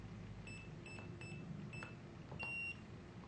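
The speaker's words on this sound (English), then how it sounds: "wait until the unit has gone back out of setting mode by the red light going out and the unit beeping" An electronic door lock unit gives a series of short, sharp beeps, about six spaced evenly, then a longer final tone, with no voices present.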